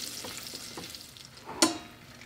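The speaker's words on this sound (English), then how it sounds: "And as soon as that is melted, we will start searing our short ribs." Beef short ribs searing in melted garlic butter in an Instant Pot, a soft steady sizzle with one sharp louder hiss near the end as meat meets the hot fat, no talk.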